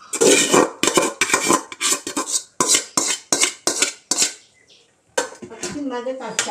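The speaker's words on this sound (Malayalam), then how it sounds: "ഇനി അതിലെ ചോറ് നമുക്ക് ഇതിലേക്ക് തട്ടി കൊടുക്കാം" Cooked ghee rice being knocked out of one vessel into a pot for a quick biryani, a run of clattering metal taps and scrapes of pan and spoon, close and fairly loud, with a brief pause before more clinking.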